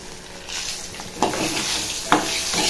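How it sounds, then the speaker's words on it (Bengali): A fish head frying in a pan gives a steady soft sizzle with occasional sharper spits and crackles, close by, no voices. "কিন্তু মাছের মাথাটা ভাজা হচ্ছে।"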